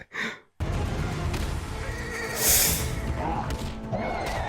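A horse whinnies loudly in a scene from Rise of the Planet of the Apes, one long shrill neigh over a rumbling, busy film soundtrack, preceded by a brief separate vocal burst.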